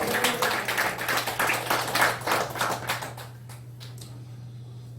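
A church congregation at a Korean Sunday worship service claps rhythmically in quick, sharp volleys over a low steady hum, then the clapping thins out and fades to a few scattered claps.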